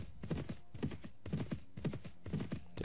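Horse hooves clip-clop in a steady galloping rhythm while riding in the video game Mount and Blade Warband, fairly close and alone with no talk over them.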